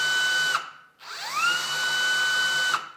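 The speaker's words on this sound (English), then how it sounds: "I'm gonna use my drill, and as I start to raise this up, I can go really fast" A cordless power drill drives a cabinet leveler upward: a high, steady motor whine runs, stops briefly, then spins up again with a rising pitch and holds before cutting off, close and clear.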